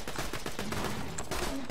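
Rapid gunfire in Borderlands 2 co-op play, bursts of shots crackling from several directions in quick succession, moderately loud and dense over a short stretch.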